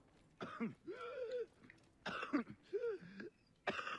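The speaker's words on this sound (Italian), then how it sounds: "Sento tossire." Several throaty coughs and throat-clearing bursts in Assassin's Creed Origins come in separate clusters with short pauses between them, fairly close and moderately loud.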